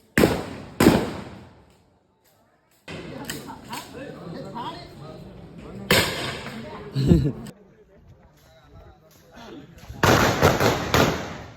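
Rifle shots ring out during VDP firing training on an open field with rubber and lead rounds, several sharp loud cracks spaced irregularly with echoing decay, under someone talking nearby.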